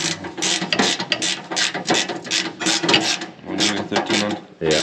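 Ratchet of a 13 mm socket wrench tightening a bolt on a tractor, clicking in quick repeated bursts up close, with people talking over and between the clicks.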